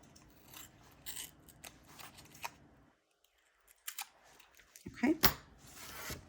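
Scissors snip through paper while a pen pal folder is being made, with a few short crisp cuts scattered among light handling noises and a brief quiet pause before the final snips.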